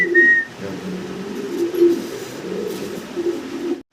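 A big pair of black Shouking pigeons cooing in low, throaty repeated phrases, close by and steady, with a brief whistle-like note near the start and no talk.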